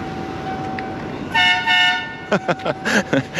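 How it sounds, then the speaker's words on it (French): A loud two-tone aftermarket air horn on a 1993 Ford F-250 XLT pickup blasts twice over an idling engine, followed by a few short toots. "on voit des klaxons ici à trompe, à air"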